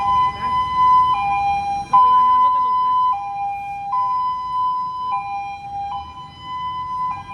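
Ambulance siren on a Thai city street, a loud two-tone wail alternating steadily and holding close throughout, with traffic rumble underneath.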